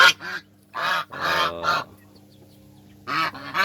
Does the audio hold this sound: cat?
no